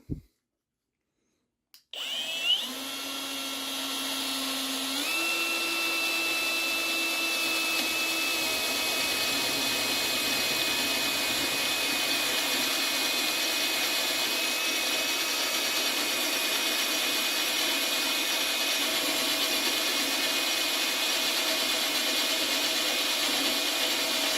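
A Yato YT-82797 drill with a new 8 mm store-bought bit bores through 4 mm sheet metal, starting after a short silence and then running as a steady, loud, continuous whine close by for the rest of the stretch.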